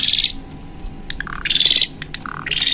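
Caged murai batu and jalak suren songbirds chirp in repeated bright, shrill bursts, loud and close, with short gaps between phrases and no talking.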